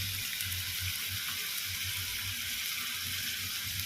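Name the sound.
onion and tomato sautéing in a pan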